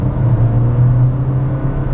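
A car engine under kick-down acceleration in traffic gives a loud, steady low drone from inside the cabin that rises slightly and holds, with no talk.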